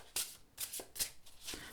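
Oversized tarot cards, larger than standard tarot size, riffled in an overhand shuffle, giving soft airy swooshes in about four quick bursts, close and fairly quiet, with no talking.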